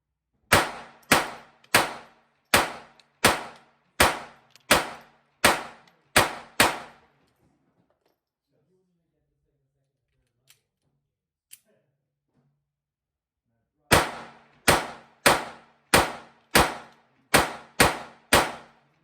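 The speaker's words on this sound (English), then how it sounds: "shoot through all 5 magazines, reload the 5 magazines with another brand of ammo, shoot through those" A Ruger LCP II pistol firing CCI Mini-Mag ammunition: two rapid strings of sharp, loud cracks at a steady pace, about ten shots each, separated by a long quiet pause with a couple of faint clicks.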